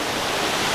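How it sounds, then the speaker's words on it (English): Steady, loud roar of a waterfall at a Scottish Highland Games farm setting, a continuous broadband rush with no pauses. "Because now we have full waterfall effect behind me now."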